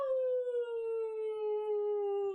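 A human voice imitates a huge wolf howl: one long, sustained, slightly falling tone with a clear tonal ring, close and prominent, standing alone without other sounds.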